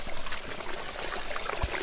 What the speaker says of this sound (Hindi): पानी के झरने भी हैं